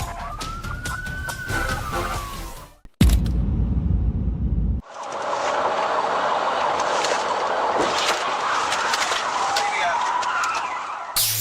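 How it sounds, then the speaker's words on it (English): A police car siren wails with a sweeping tone during a high-speed chase through the streets of West Memphis, loud and close, with heavy road and engine noise that drops out briefly before surging back. "the tranquility of West Memphis was shattered as sirens echoed through the streets"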